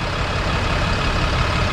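Steady, loud, close diesel drone from a Scania Fencer f1 coach's Euro 6 Step E DC07 engine rated at 280 horsepower, running continuously without variation and with no voices.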